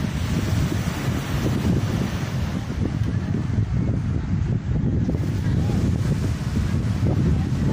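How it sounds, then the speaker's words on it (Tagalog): Steady rushing surf on a beach at La Union with heavy wind buffeting the microphone, a continuous loud wash of water and wind with no clear breaks. "makikita nyo maalon, malinaw naman yung tubig"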